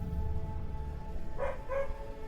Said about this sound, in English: Somewhere, a dog barks.